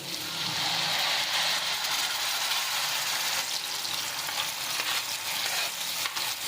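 Ground tomatoes and ginger-garlic paste frying in hot ghee make a dense, steady sizzle, with stirring scrapes rising and falling throughout and no talk.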